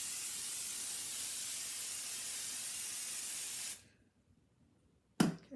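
Cooking spray hisses in one steady, close burst lasting nearly four seconds as it coats a brownie pan, then stops; a short second spritz follows after a brief pause.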